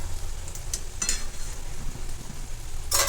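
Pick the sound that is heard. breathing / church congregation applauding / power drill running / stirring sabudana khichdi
stirring sabudana khichdi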